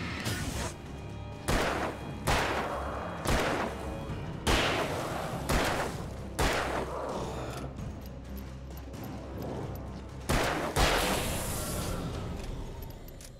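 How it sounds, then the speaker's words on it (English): Gunfire in the video game Alan Wake rings out as a series of heavy shots, about nine evenly spaced booming blasts with echoing tails over a low game ambience, loud and close. "just a matter of pump him full of bullets"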